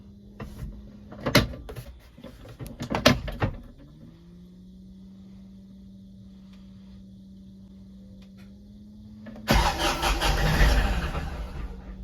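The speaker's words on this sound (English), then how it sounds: "when you crank it up, it starts spitting and sputtering, black smoke, and it'll actually die out" A Kioti tractor with a suspected crankshaft sensor fault turns over with loud clattering bursts, idles with a low steady hum, then roars and sputters unevenly as it struggles to keep running.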